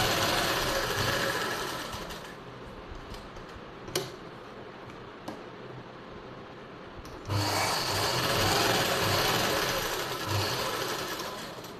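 A sewing machine stitches a silk suit with a close, continuous whirring rattle that drops to a softer, slower run with a couple of sharp clicks before speeding back up to full loudness.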